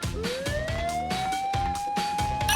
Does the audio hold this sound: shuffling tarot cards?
no